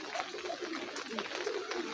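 Pigeons on a rooftop after several days of rain, cooing softly and steadily through a continuous wash of background noise, with no voices.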